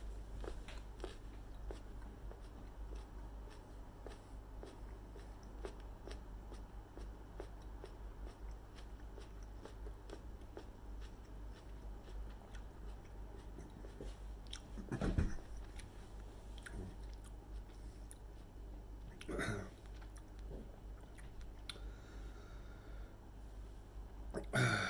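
Raw habanero chilli pieces chewed slowly after a meal: quiet, soft, wet crunching and biting close to the mouth, with a couple of louder crunches standing out.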